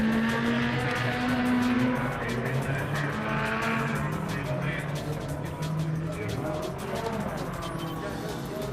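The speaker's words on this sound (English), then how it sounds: "I was doing a little handbrake turn there with the pivot" A Nissan 240SX at an autocross squeals its tires through a handbrake turn around a pivot cone, the engine droning and revving loudly alongside the wavering tire screech, with someone talking over it.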